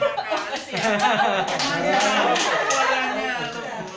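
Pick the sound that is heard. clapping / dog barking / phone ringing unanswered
clapping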